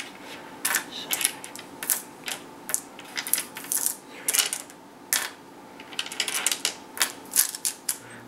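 Dice for the Soldier Kings board game clatter in repeated rolls, a string of sharp, close clicks and rattles in irregular clusters with brief quiet gaps between throws.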